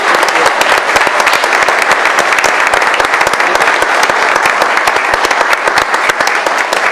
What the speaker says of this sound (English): we'd like to hear a round of applause for our Environmental Quality Committee